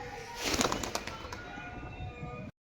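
Pigeons released for a free flight flap their wings in a loud burst that thins into steady fluttering, then cuts out suddenly near the end.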